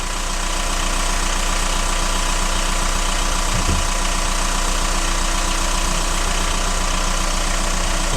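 Citroën C5 2.0 HDI diesel engine with a newly replaced turbo running at a steady idle, a constant rough, knocking clatter heard close and continuously with no voices.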